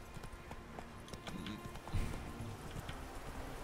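Horse hooves clip-clop at a steady trot in The Witcher 3, quiet and continuous throughout with a slight thump near the middle, no talking over it.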